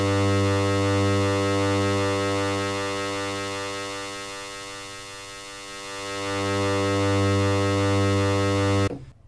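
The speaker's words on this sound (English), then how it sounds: "So as I turn this knob, you're going to hear the low frequencies of my sound going away." A Korg synthesizer holds a sustained buzzy tone while a high-pass filter sweeps, thinning the low end and then bringing it back, steady and loud, ending in an abrupt cutoff.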